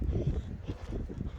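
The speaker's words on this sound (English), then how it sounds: "It is pretty windy up here on the hill" Low, rumbling wind buffeting the microphone in continuous gusts on a hilltop, with no voices present.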